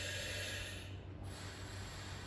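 Breath is drawn through a breathing apparatus during rescue training, a faint steady hissing airflow with a short break partway through, and no talking.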